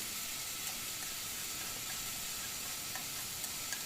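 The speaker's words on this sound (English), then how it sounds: "you can add the cashew nut. Just again saute for" Mushrooms and cashew nuts sauté in a pan with a quiet, steady sizzle and hiss. A few faint ticks of stirring sound over it, and nobody speaks.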